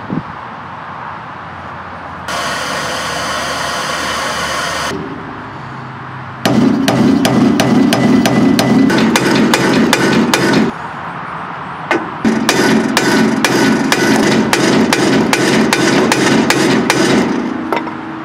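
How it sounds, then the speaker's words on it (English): Repeated hammer blows strike metal in fast bursts, loud and close, with a grinding or whirring noise before them and a pause between the two runs of strikes, while removing a Mercedes W123 ball joint. "Hit with a hammer"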